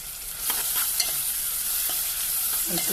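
Onion and green chilies frying with turmeric in a pan as a leafy greens curry cooks, giving a steady close hiss of sizzling oil with light stirring scrapes and a few soft clicks, no talking.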